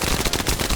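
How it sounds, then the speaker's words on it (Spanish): Rapid automatic gunfire from a weapon in The First Descendant, a dense, steady burst of shots at close range with no voices over it. "el siguiente disparo final va a salir bastante potenciado"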